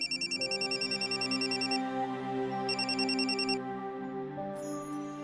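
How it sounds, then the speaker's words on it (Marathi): A phone rings with a repeating electronic ringtone melody, loud and close, playing continuously with no talking. "तुमच्या फोनवर वॉर्डन मॅडमचा फोन आला"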